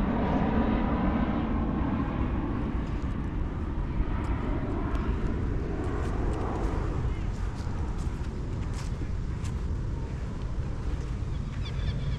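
A distant airplane passing overhead, a steady broad rumble of jet noise that slowly fades away, heard outdoors under light background sound.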